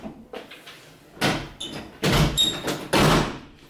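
A door in an apartment moves and shuts in a series of thuds and knocks, a few loud impacts close by, with faint squeaks between them.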